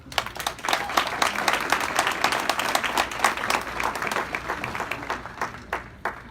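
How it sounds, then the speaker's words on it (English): Audience applause at an awards celebration honoring a class of young achievers: a sustained, loud burst of many hands clapping at once, dense and steady, with individual claps standing out as it thins toward the end. "Big round of applause."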